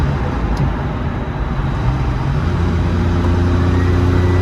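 Jaguar XJ220 twin-turbo supercar engine pulling through a downshift, a loud steady low drone with a rising pitch toward the end, heard from inside the cabin.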